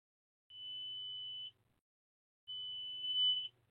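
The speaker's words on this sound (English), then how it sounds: "That beep is to let you know that the CT test has been complete" Two long, steady high-pitched electronic beeps from a test instrument signalling a completed CT test, each about a second long, separated by a pause, clear against a quiet background.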